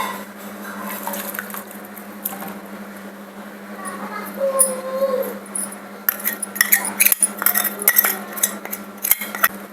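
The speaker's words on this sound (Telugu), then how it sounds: "ఇప్పుడైతే బెల్లం కరిగేంత వరకు మంచిగా స్పూన్తో కలుపుకోవాలండి." A spoon stirring jaggery into water in a pot, producing wet swishing and metallic clinks against the vessel that grow busier toward the end, over a constant low hum with some voice present.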